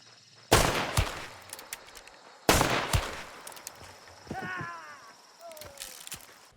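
Two sharp gunshots ring out from a Hunt: Showdown weapon loaded with Dum Dum ammunition, spaced about two seconds apart, each with a loud crack and decaying tail, followed by quieter in-game chatter and tonal effects.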